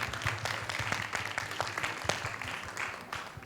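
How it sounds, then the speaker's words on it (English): An audience at a creative arts masterclass workshop gives a warm round of applause, steady clapping from many hands held at moderate volume throughout. "Let's give a big clap for Riaz Rafael."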